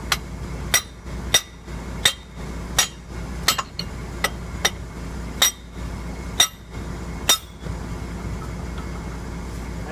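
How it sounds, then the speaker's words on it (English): A 4-pound sledgehammer strikes a 1-inch steel pipe while removing the track tensioner and idler on a Link-Belt 3400 Quantum excavator: about ten sharp metallic clanks in a loose, irregular rhythm, close and loud over a low engine rumble. "I got here 1-inch steel pipe. Fits in real nice."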